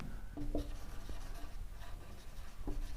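A pen writes steadily on paper during a math lesson, a soft continuous scratching close by with a few faint taps, no voices.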